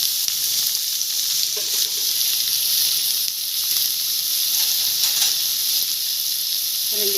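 Onion and capsicum fry over high heat in hot oil, a loud, steady, close hiss that runs unbroken throughout, with only faint utensil touches.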